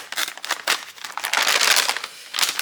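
Paper or plastic wrapping of a knitting advent calendar package being torn open, with close, bursty crinkling and rustling in several quick bouts.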